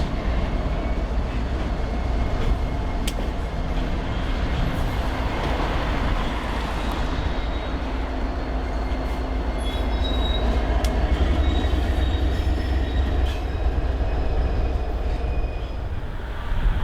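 CN freight train L540 rolls steadily through a rail yard with a continuous low rumble of wheels and cars, faint squeals and clanks rising now and then over the constant roar.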